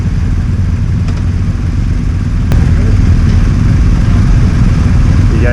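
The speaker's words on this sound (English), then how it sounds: "the boys revving up their bikes" BMW GS adventure motorcycles rumble with a loud, close, low engine drone and a slight rise in revs partway through, heard outdoors.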